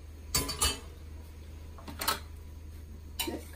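A spoon clinks against a bowl or glass while sugar is stirred into lukewarm water for güllaç syrup, giving a few sharp, separate metallic taps against a quiet room background.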